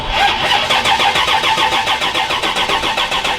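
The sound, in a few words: 1979 Pontiac Trans Am barn find engine starting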